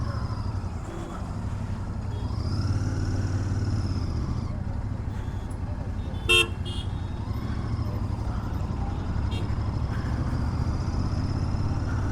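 A Royal Enfield Interceptor 650 motorcycle engine rumbles steadily while riding in first gear, with a continuous loud low drone and wind noise and one brief sharper knock partway through.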